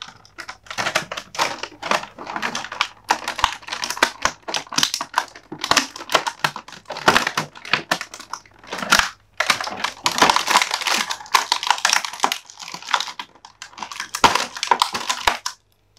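A Star Wars Micro Galaxy Squadron toy figure is worked out of its plastic packaging: dense crinkling, crackling and clicking of plastic, close and loud, in irregular bursts with short pauses.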